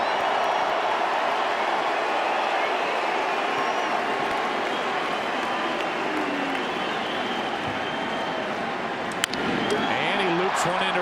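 Baseball stadium crowd at an ALCS playoff game cheers for J.D. Drew, a loud, sustained roar of many fans that carries on steadily throughout with no break.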